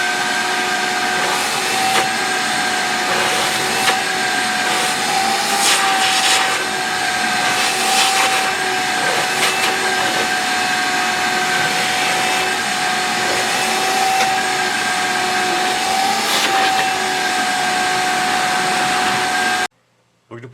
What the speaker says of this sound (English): So I'm just gonna vacuum it out with my vacuum.